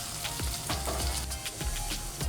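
Tomatoes frying in a pan for brinjal curry, a dense steady sizzle with repeated low scraping stirs throughout.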